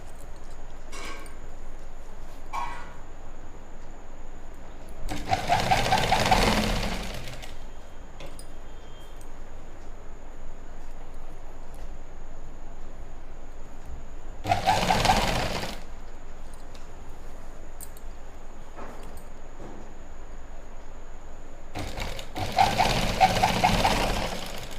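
Three separate bursts of a sewing machine stitching a lined pant with a half-inch seam, each lasting a second or two, separated by quieter stretches of room noise.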